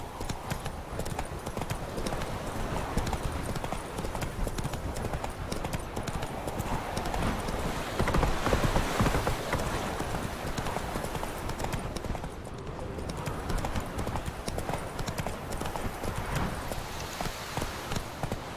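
Continuous galloping hoofbeats from Roach, the horse in The Witcher 3, drum steadily and fairly loud for the whole stretch, with a busy rumble of movement beneath and no talking.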